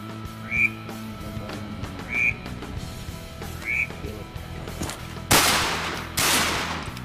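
Shotguns fired during a mallard duck hunt outdoors, two loud, sharp blasts close together near the end, after a series of frog-like croaking duck calls.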